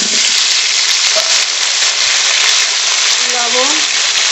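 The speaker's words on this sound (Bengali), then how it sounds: "মাছ সব ভেজে নিয়েছি, এবার আলু ভেজে নেব।" Washed, cut potatoes fry in oil in a wok, a loud, dense, continuous sizzle close up with a faint voice briefly audible near the end.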